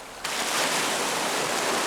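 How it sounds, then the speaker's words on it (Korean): Sea waves wash over round pebbles on a beach on Wando island, breaking in as a sudden loud rush of hissing surf after a brief quieter moment, then a continuous roar close by. "시차를 두고 몽돌에 부딪히는 파도 소리는"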